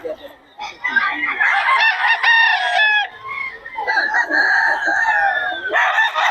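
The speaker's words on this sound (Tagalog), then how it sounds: "Murang-mura mga manok ni Boss Joey mga idol." Several chickens cluck and squawk noisily while a rooster crows loudly, with a brief pause midway before the calls resume, in Bocaue, Philippines.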